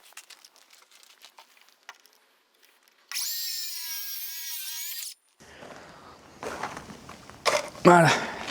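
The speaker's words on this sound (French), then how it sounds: "on va commencer par débiter cette planche, donc juste donc tronçonner à cet endroit-là" A power saw cuts through a wooden plank in one steady, loud whining burst of about two seconds, preceded by quiet handling clatter and followed by rustling, footsteps and knocks nearby.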